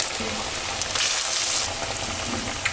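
Loud, dense sizzling of food frying in oil, heard up close and continuous throughout, with brief crackles and spits.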